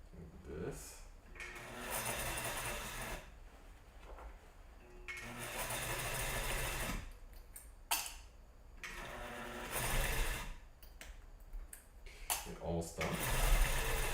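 A sewing machine stitches denim jeans into baggy jorts, running in repeated bursts of steady mechanical whirring separated by short pauses, close and moderately loud.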